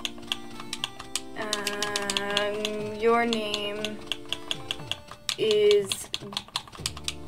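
Keys click on a computer keyboard as a name is typed into a video game. Sharp, scattered taps come in short bursts over tonal game music, and a voice speaks briefly.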